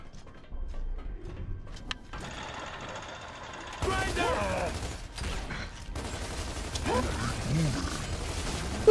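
Bursts of machine gun fire in the video game Gears of War 2 rattle over a busy mix of clanking mechanical game noise, and the firing grows louder and denser in the second half.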